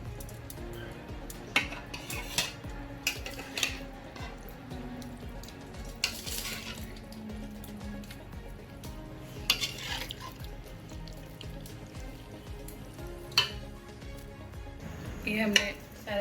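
Chicken pieces going into a biryani pot, heard as repeated clinks and scrapes of a spoon on metal over a low sizzle, close by and at a moderate level, with scattered thumps and no talking.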